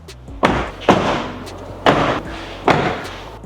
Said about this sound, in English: So we'll do a quick demo, close the doors.